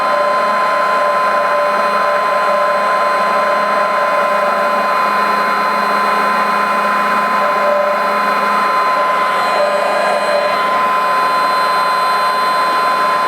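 A heat gun blows steadily on a soft plastic fishing lure, a constant loud whooshing roar with a faint tonal whine, close and unbroken throughout.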